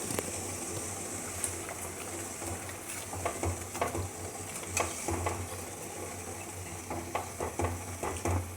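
Cabbage, grape and ash gourd leaves dropped into a pot of boiling water, a steady bubbling simmer with soft clinks and stirring sounds, quiet and unbroken by talk.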